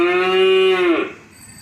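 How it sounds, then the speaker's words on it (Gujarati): A single cow lets out one long, loud moo with a steady pitch that drops and fades away near the end, with no other sound in the clip. "તો ગાયનો અવાજ આપણે સાંભળીશું."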